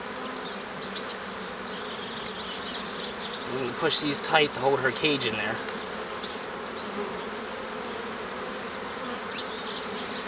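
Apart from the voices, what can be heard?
honey bees buzzing at open hive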